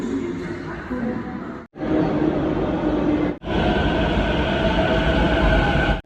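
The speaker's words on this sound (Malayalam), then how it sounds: "ഞാനിപ്പോൾ ജസ്റ്റ് ബേലാപ്പൂരിൽ നിന്ന് ചേംബൂറിലേക്ക് ട്രെയിൻ എടുത്തിട്ടുള്ളത്." A crowded Mumbai local train runs from Belapur toward Chembur, its steady roar and rattle filling the carriage. Passengers' voices murmur underneath, and the noise drops out briefly twice.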